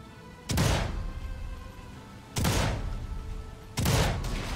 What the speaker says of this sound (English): I think somebody heard me firing